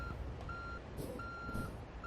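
Steady reversing beeper on a truck in American Truck Simulator, repeating long tones at a regular interval over a low engine rumble, with short hiss-like air bursts between beeps.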